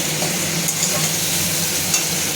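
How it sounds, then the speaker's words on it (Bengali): Tomatoes are stirred in a frying pan, giving a continuous close sizzle overlaid with soft scraping and shuffling as the pieces are moved around, and no talking. "একটু নাড়াচাড়া করতে হবে টমেটোটা নরম হয়ে আসলে"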